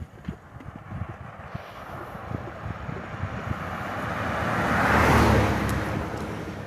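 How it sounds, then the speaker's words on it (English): A vehicle approaches along a road and passes close by, its rumble swelling to a loud peak before fading, with gusty wind buffeting the microphone throughout. "vehicle coming"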